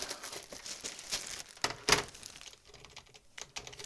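Quiet, close clicking of keys on a computer keyboard, irregular taps in short bursts with a louder clack in the middle, no talking.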